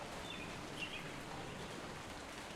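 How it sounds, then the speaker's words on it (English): Soft, steady video-game rain hisses in a morning scene, with a few faint, high bird chirps rising briefly over it near the start. "Clearly morning, raining, and birds are singing."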